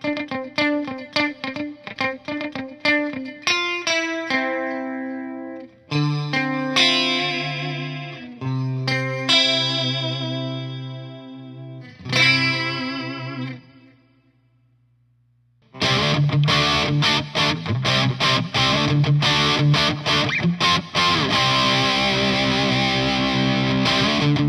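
Electric guitar through a Digitech GSP21 Pro multi-effects patch with scooped mids, chorus-laden clean picking and chords, a brief near-silent pause, then a loud distorted lead with sustained notes.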